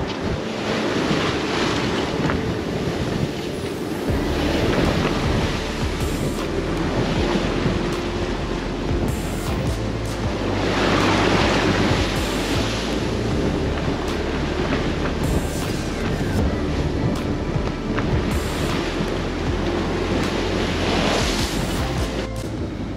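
Steady wind and rolling surf rush past a sailing yacht under sail on a Red Sea crossing, a dense, unbroken roar of air and water that stays close and loud throughout, with no voices.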